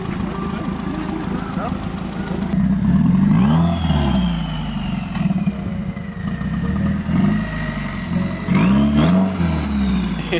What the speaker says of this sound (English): It's so funny seeing someone else drive my car.